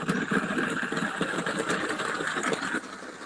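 A Thomas the Tank Engine model train runs along its track at a layout event, a continuous buzzing motor whir with light rattling clicks, close and fairly loud, fading slightly near the end.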